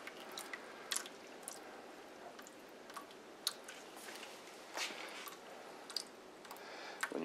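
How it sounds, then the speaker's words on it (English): Water drips slowly from the overflow valve of a specific gravity setup testing coarse aggregate, with faint, irregular small taps and clicks scattered over a quiet background, close by and soft. "When your drip slows down to almost no drip, then you're ready to go."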